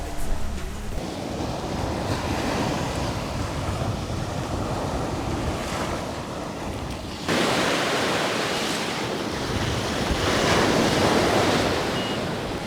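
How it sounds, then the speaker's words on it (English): Strong wind sweeps across Miami Beach with surf washing in, a steady, loud roar of broadband rushing noise that gusts stronger after a brief dip midway and continues throughout without talk. "But no, it is extremely windy."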